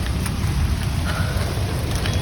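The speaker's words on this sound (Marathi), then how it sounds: "पाऊस आलेला आहे" Loud, continuous rainfall hisses close by, with a low rumbling undertone and no voices.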